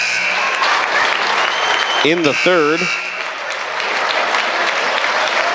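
A crowd in a high school gym claps steadily through a basketball game's final seconds, a dense, loud wash of applause, while a voice briefly speaks over it.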